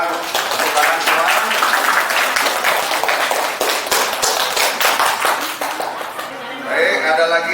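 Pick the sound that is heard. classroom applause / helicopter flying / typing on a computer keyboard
classroom applause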